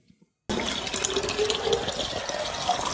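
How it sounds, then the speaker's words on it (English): Water gushes from a garden hose as it fills a car that runs on water, a sudden steady rushing pour that continues without a break. "Munei refills his car up with a garden hose"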